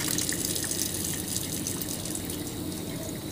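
Water runs steadily from a tap while lab equipment is rinsed at a sink, a continuous close splashing hiss with faint drips, no voices.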